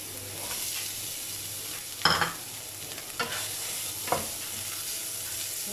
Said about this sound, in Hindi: फ्लेम जो है हमारा मीडियम टू लो है, और साथ ही इसमें जाएगा चिकन।